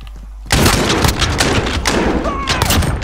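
Shotgun fire in the battle royale game Warzone bursts in after a quiet half second, a rapid run of loud thumping blasts and impacts continuing densely to the end.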